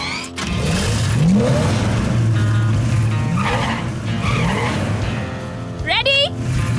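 Cartoon race cars rev their engines at a starting line, a loud continuous engine roar with rising pitch sweeps and a sharp tire squeal near the end, under an animated character's talking.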